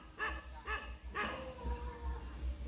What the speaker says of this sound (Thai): โอนอีกตัวเห่าอยู่บนกองดิน